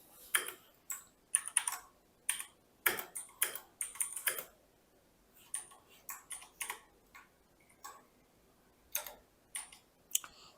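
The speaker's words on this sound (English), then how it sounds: "I have no clue how this keyboard works." Computer keyboard typing in irregular bursts of quick, light key clicks with short pauses between, close and fairly quiet, during an online poker cash game session, with no speech.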